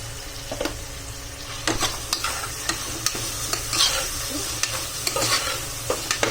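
Onions with rock salt sauté in a pan for paneer biryani, a steady close sizzle broken by repeated sharp scrapes and clacks of a spoon stirring, with no voices.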